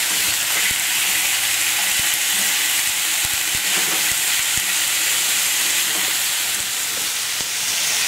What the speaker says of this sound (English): For meat, just burn it the outside. So you should stir to color it